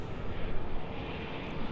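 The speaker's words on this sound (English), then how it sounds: "KLM Dreamliner coming over to play." A KLM Boeing 787 Dreamliner departs Los Angeles airport, a brief steady jet roar rumbling overhead at moderate loudness with no other sounds.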